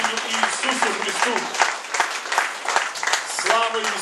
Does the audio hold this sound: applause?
yes